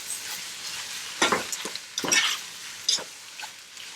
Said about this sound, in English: And you just keep turning your meat to make sure it gets sauteed evenly.